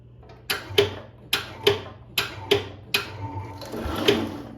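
The engine of a 1971 IH Cub Cadet 126 garden tractor cranking over without catching: a series of about eight sharp mechanical clanks in uneven rhythm, close and loud, ending in a longer grinding whir.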